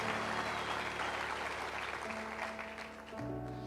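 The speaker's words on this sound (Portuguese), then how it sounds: "dê uma salva de palmas a Jesus" A church congregation claps together in sustained applause, dense and even at first, then thinning as it fades toward the end.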